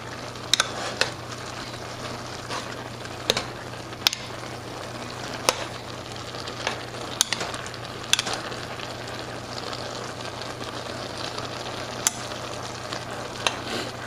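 Hamburger meat and mushrooms frying in a pan for hamburger stroganoff, a continuous close sizzle broken by sharp clicks and scrapes of a utensil stirring at irregular moments, with no talking.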